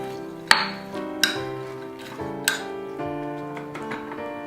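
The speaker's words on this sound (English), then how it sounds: "And we're just going to mix that up." Pecans and red pepper flakes stirred together in a bowl, four or five bright metallic clinks of a utensil against the bowl spaced about a second apart, each ringing out briefly, close and alone.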